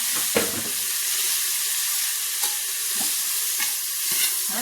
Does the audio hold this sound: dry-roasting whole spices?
yes